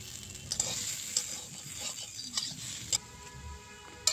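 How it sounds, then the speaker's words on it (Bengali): Taro and spices with ground ginger stir-fried in a pan, a constant crackling sizzle punctuated by several sharp metal scrapes and clinks of the spatula at irregular intervals. "কচুটাকে ভালো করে কষাতে হবে।"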